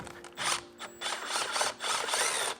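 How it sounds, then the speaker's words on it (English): A ratchet turns a 10mm magnetic deep socket on a locking extension to remove corroded battery hold-downs on a Ford F350, giving rapid clicking in several close bursts with brief gaps. "This is a magnetic deep socket on a locking extension."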